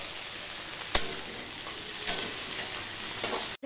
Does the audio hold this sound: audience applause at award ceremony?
no